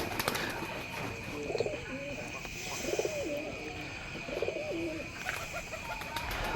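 Tila pigeons coo softly in a loft, repeated low throaty calls at a steady pace over a constant hum of background noise, with faint human voices now and then.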